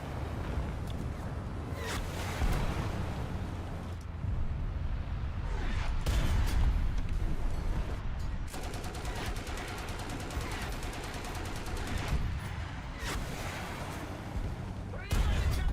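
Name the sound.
rockets being fired repeatedly, from video game War Thunder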